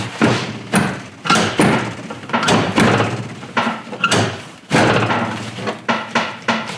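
A removable dog seat in a Polaris is worked into place, with repeated hard thuds, knocks and latch clunks in irregular bursts, loud and close.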